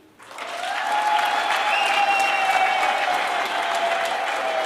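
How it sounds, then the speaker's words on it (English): An audience at a university vice-chancellor installation ceremony breaks into applause, which swells quickly from near silence into sustained crowd clapping that holds steady, with a faint tonal hum running underneath. "Let's applaud him."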